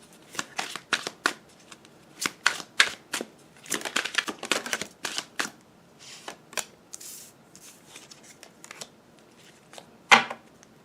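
Tarot cards being shuffled and drawn during a reading: a rapid run of crisp riffling and flicking bursts, close and fairly loud, ending with a sharper card snap.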